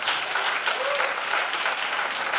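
Congregation applauding during a church service, a steady dense wash of many hands clapping that fills the whole moment without pause.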